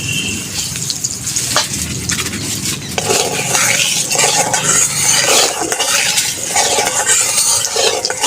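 Mustard oil heats in a wok with a pinch of salt before bhetki fish goes in, making a close crackling sizzle with occasional metal scrapes and clinks of a utensil.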